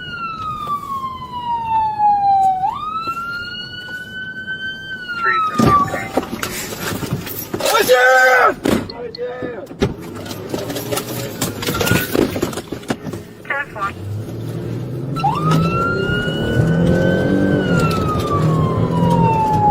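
A loud police siren wails and sweeps up and down over traffic rumble as a police car chases an ambulance northbound, breaking off midway into a jumble of noise before the wail returns.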